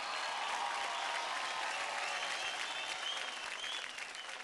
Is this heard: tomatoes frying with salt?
no